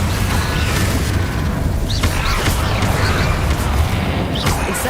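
Confringo spell blasts in the Hogwarts Legacy video game: a dense, loud, continuous wash of booming explosive noise with sharp crackling bursts scattered through it, close and sustained throughout.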